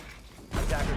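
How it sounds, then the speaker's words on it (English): A gun reloads in a tactical shooter video game: a brief, close mechanical clack of handling noise starts abruptly after a moment of quiet. "Reloading."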